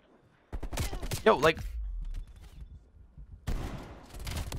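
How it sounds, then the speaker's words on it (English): Shotgun fire in the online shooter Black Ops Cold War: a loud burst of blasts with clattering game effects and a second burst of gunfire later, mixed with brief casual speech. "oh my god, shotguns"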